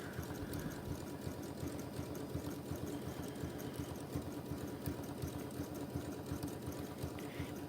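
A sewing machine stitches a reinforced straight stitch, its needle hammering in a fast, even rhythm with a low motor hum, steady and close throughout.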